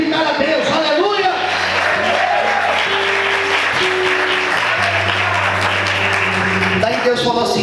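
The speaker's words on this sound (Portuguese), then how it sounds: "Vamos podem aplaudir e glorificar a Deus." A church congregation applauds after the preacher's call to glorify God, a loud, sustained wash of clapping and cheering lasting several seconds, with voices and held musical tones underneath.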